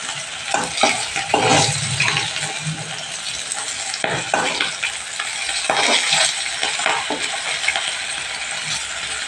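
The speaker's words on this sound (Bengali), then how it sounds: "বাদ বাকি মাছগুলো আমি তেলের মধ্যে দিয়ে দিয়েছি ভাজার জন্য" Rohu fish pieces sizzle in hot oil in a pan while a utensil scrapes and turns them, the frying hiss steady throughout with several sharper clinks and scrapes, close and fairly loud.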